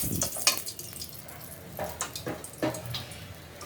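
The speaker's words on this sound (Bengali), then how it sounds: "ডালের জন্য যে সম্বারা দিলাম শুকনো মরিচ" Dry red chillies sizzle in hot tempering oil for dal, with a soft crackling fry and scattered stirring scrapes and spatters, fairly quiet and close.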